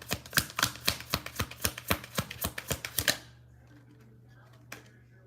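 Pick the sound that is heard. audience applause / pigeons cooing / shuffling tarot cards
shuffling tarot cards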